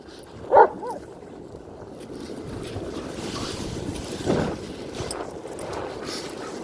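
A dog playing among stones on a windy, rocky beach, with one sharp bark near the start and a later scuffle, over continuous wind and surf noise.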